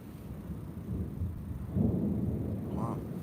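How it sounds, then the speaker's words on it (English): Thunder rumbles low on an overcast, rainy day just after a hailstorm at a Herkimer diamond quartz digging site, a rolling, moderately loud boom that swells partway through with a voice faintly over it. "Wow, thunder."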